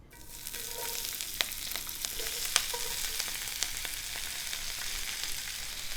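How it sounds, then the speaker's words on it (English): Shredded Brussels sprouts sizzle steadily in olive oil in a pan over medium heat, a dense continuous crackle with scattered pops, close by and without talk. "I'm heating this olive oil over medium heat, and I'm going to go ahead and just put the sprouts and spread them out"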